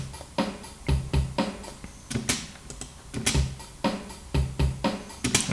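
A programmed drum kit beat in a DAW with punchy low kicks and crisp, ticking hi-hats in a steady repeating pattern, moderately loud with no voices.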